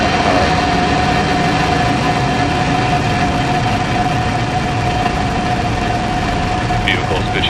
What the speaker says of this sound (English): Ignition and liftoff. Go Falcon, go hard.